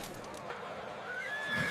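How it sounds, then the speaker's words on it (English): A horse gives a single loud whinny with a rising, quavering call over faint hoof clatter and background noise, heard briefly and nearby. "Unprepared for the horses."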